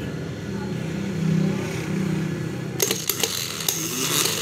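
A Daihatsu Hijet starter motor on test, wired from the solenoid to the ignition switch: a low steady hum, then from about the midpoint a quick run of sharp clicks and clanks close to the microphone.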